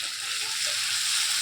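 Tomatoes, onions and ginger-garlic paste fry together in a pan, giving a loud, even, unbroken sizzle with no other sounds.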